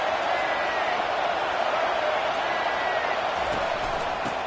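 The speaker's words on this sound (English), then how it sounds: "This crowd trying to make life miserable for this offense." Stadium crowd in the College Football 25 video game, an FCS team visiting Tennessee: a steady, dense roar of many voices that stays loud and even throughout, with faint thumps underneath.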